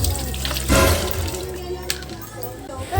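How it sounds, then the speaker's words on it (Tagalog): Running water splashes close by as dirty potatoes are rinsed in a sink, a steady tap-like flow with sloshing handling. A voice talks over it. "susunod ko mahugasan ang patatas. So medyo marumi pa kasi yung patatas kaya hugasan ko siya."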